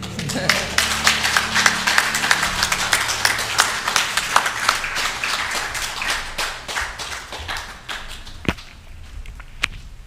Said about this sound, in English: And now let's give them a love applause.